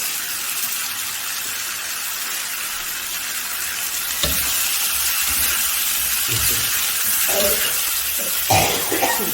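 Onions and chilies sizzle in a hot pan with soybean paste, a steady broadband frying hiss throughout with occasional crackles and stirring scrapes growing a little louder toward the end.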